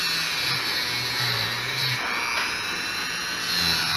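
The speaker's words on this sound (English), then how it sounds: "I'm going to use Dremel. I'm going to try to do this where you can see it" A Dremel rotary tool fitted with a small sanding disc, used to clean out a screw slot, whines steadily and loudly at close range throughout, with no talking.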